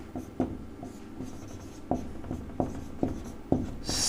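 Pen writing on paper, a close, soft scratching with distinct stroke taps at an uneven rhythm, quiet with no voices.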